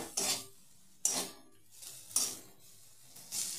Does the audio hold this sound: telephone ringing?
no